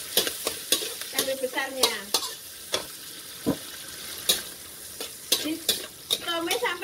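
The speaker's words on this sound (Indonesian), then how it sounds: "Kita tumis ya sampai matang harum" Spice paste sautés in a pan with tofu nearby, a constant sizzle broken by repeated sharp scrapes and knocks of a spatula on the metal, irregular and close; a brief voice speaks once.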